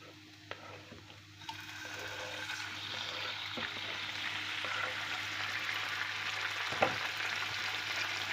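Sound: chicken liver frying in oil in a hot pan

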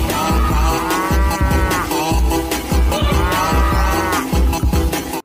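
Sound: cow mooing in video game Jurassic World Evolution 2

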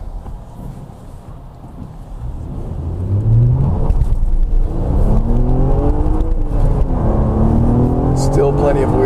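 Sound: 2016 Honda Accord V6 manual accelerating with wheel slip

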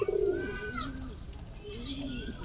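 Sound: pigeons cooing

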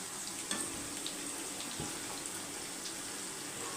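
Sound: meal maker (soya chunks) frying in oil

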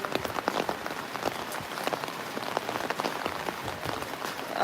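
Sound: rain falling

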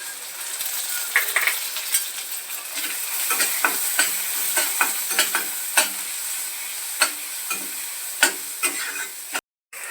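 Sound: onion and curry leaves frying in a pan

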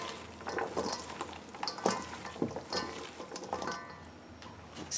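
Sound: mixing pasta salad with tomatoes

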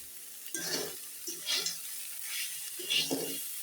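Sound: frying and stirring vegetables in a pan

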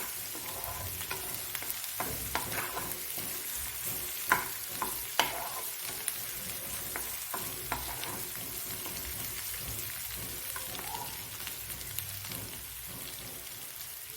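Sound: oil frying in small fish and mango curry

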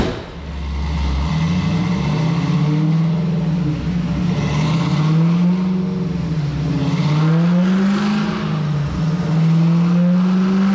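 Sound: 900 hp 1968 Camaro with Magnuson 2650 supercharger revving on dyno

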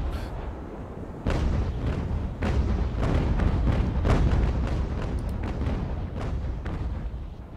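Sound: naval cannon fire in video game Ultimate Admiral: Age of Sail

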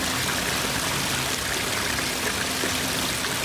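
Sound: streaming waterfall in a koi pond garden

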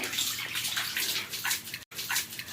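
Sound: pouring water while bathing a dog

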